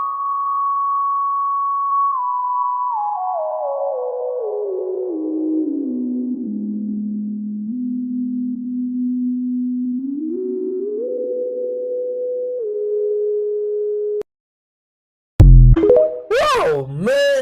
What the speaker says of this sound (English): Even plants can produce such music.